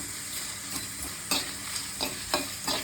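Spices roast in a pan for mutton gravy, with a soft constant sizzle and a spatula scraping in regular strokes roughly every half second.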